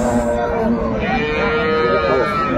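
A crossbred cow at Aftabganj cattle market in Dinajpur gives one long, loud, close moo that holds steady for the whole stretch, with faint market voices underneath.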